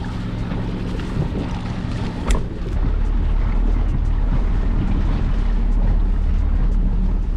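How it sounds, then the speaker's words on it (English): A small gas-engine speedboat drones steadily with rushing water and wind buffeting the microphone, loud and close throughout. "we're on this little speedboat"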